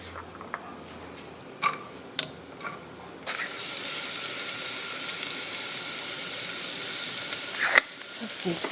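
Onions hit a hot pan and start sizzling partway through, a steady moderate hiss after a few light clinks and taps, continuing alone to the end.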